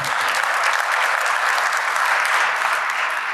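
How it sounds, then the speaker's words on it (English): Steady, dense audience clapping during a conference talk on AI-generated customer experiences, loud and even throughout with no voices over it. "You can clap if you want."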